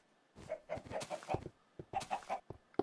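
Minecraft chickens cluck in short bursts, a few close, clear calls in two rapid clusters separated by a brief pause.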